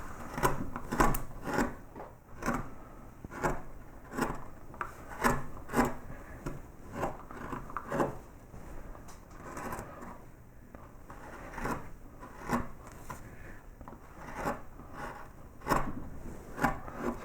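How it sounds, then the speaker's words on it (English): A narrow deep gouge cuts into a wooden child's bedroom sign, making repeated short scraping strokes in an uneven rhythm, close and fairly quiet, with no talk. "something a little bit narrower, a little narrow deep gouge"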